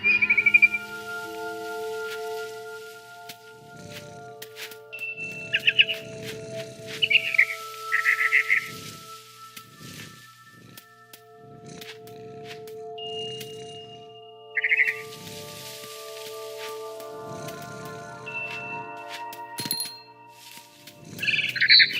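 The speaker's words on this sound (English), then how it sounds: "Then I heard chirping outside my window. It was a barn swallow going back to her nest." A barn swallow chirps outside a window in the video game What Remains of Edith Finch. Bright, intermittent chirps and trills come over a soft, sustained tonal ambience, with some quiet thuds and shuffles.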